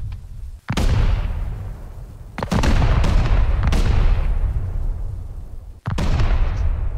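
Loud explosive charges detonating during a base raid in the survival video game Rust, a series of four heavy booms with sharp onsets, each followed by a long rumbling decay, close and without talk.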